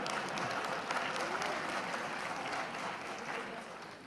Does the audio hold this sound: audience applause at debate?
yes